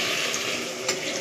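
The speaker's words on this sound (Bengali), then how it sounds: "এর মধ্যে এবার আলুটা গলার মতন জল দেবো" Water pours into a cooking pot of potatoes as a steady, close rush with a brief splash near the end, and no voices are heard.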